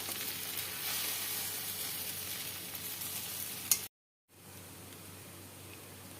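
Suji ball mixture being stirred with chili powder in a frying pan, giving a steady soft sizzle and scrape that runs for several seconds, breaks off into a brief silence, then carries on more quietly.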